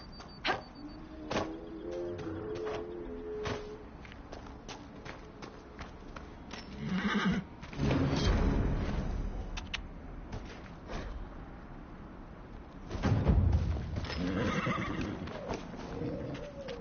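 A chestnut purebred Ferelden Forder horse in the video game Dragon Age: Inquisition gives a couple of neighs and snorts over a low, steady game ambience. The calls come in two louder bursts midway and near the end.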